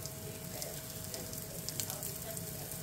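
Onions frying in a pan for chicken adobo, giving a steady close hiss and sizzle with faint crackles throughout, with no voices.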